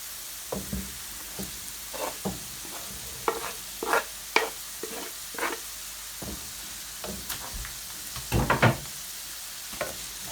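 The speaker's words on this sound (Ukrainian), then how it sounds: "Ось так тихенько на маленькому вогні, ну хай помаленько обжарюється." Grated carrot and onion frying gently over low heat in a frying pan, soft sizzling with irregular scraping and stirring clicks, near and quiet, no voices.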